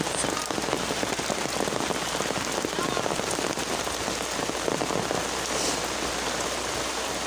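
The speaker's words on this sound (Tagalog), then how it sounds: "Magali karon guys, kay nibuylo ang ulan." Steady, dense rain pours down, drumming on surfaces with a constant hiss throughout, no other sounds standing out.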